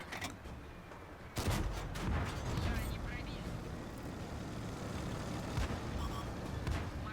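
Tank cannons boom and crack in World of Tanks during a battle, with a sharp nearby blast followed by rumbling shots and distant impacts over continuous battlefield noise.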